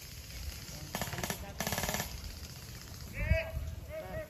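Airsoft guns fire in bursts of rapid popping during an outdoor skirmish at an airsoft camp, loud and close in two clusters, with people talking nearby and a thud near the end.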